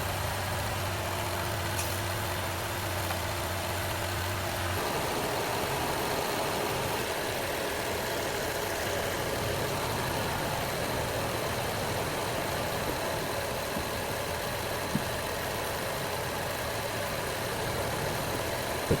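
A Honda Accord V6 engine idles steadily during an AC recharge, a continuous mid-level hum with a low droning tone that drops away after about five seconds as the AC clutch engages, then a constant broadband whir with no voices.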